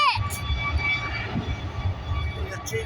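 An Airbus A319 jet at Edinburgh Airport gives a steady, distant engine roar and rumble, with faint voices underneath.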